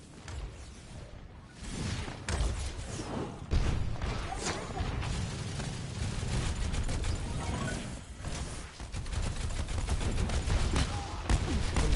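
Pharah's Barrage ultimate and other weapon fire in an Overwatch esports playoff match make a dense, sustained mix of rapid bursts, explosions and mechanical clatter, loud and continuous with no clear breaks.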